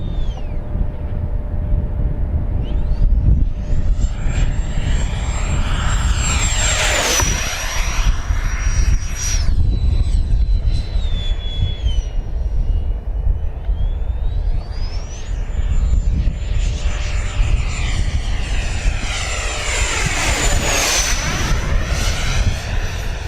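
A 105mm all-metal JINGPIN HOBBY electric ducted fan RC jet flying, its high turbine whine sweeping up and down with Doppler shifts as it makes two close passes over a steady roar, loud and without talk.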